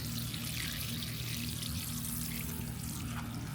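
Water pours steadily into a garden container during a summer container-garden tour, a continuous close splashing flow with no talk over it.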